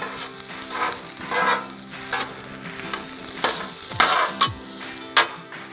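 Breakfast food sizzles and fries on a Blackstone flat-top griddle, a steady close hiss broken by several sharp spatula scrapes and clinks, with no talking.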